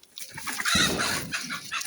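Hens let out of their coop cluck and squawk close by in a short, lively burst, with a sharper cackle rising partway through amid soft background rustling.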